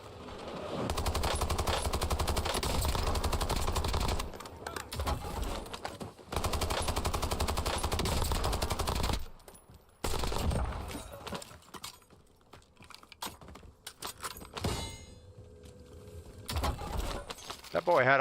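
Automatic machine gun fire from the Warzone video game rattles in long loud bursts, broken by brief pauses and scattered single shots, with talk mixed in at times.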